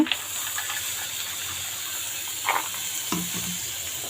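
Chana dal hits hot oil with fried onions and ginger-garlic paste for a coconut chana dal curry, producing a steady close sizzle. A few sharp clinks of a spoon against the pan break through the frying.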